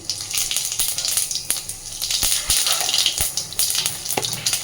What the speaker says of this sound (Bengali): ওই তেলের মধ্যেই এবার আমি ফোড়নে দিয়ে দিচ্ছি একটু জিরে।